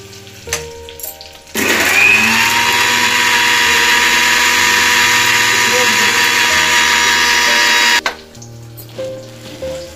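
An electric mixer grinder whirs loudly as it grinds green chillies, garlic, black pepper, cumin and half an onion into a paste, starting abruptly and running steadily for about six seconds before stopping, with faint kitchen sounds around it.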